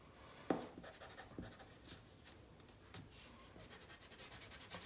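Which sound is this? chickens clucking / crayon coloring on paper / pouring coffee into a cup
crayon coloring on paper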